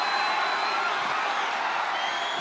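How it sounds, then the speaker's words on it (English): A video game wrestling arena crowd in WWE 2K25 roars in a steady, dense wash of noise, loud and continuous throughout with no clear individual voices. "just listen to the crowd roar"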